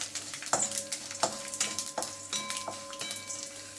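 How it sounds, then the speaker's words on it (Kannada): Cumin seeds and peppercorns sizzle in hot cooking oil, a bright, close frying hiss punctuated by several sharp metallic clinks of a spoon against the pan. "ಎಣ್ಣೆ ಕಾದಿದೆ. ಈಗ ಅದಕ್ಕೆ 2 ಟೀ ಸ್ಪೂನಷ್ಟು ಜೀರಿಗೆ ಹಾಕೋತಾ ಇದ್ದೀನಿ."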